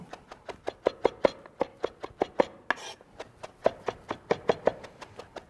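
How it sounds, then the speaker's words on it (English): A knife chops a bunch of Italian parsley on a cutting board for arugula chimichurri, a close, crisp series of about twenty-five rhythmic taps at a steady, fairly quick pace with a brief pause midway. "So I'm bringing these together, chopping."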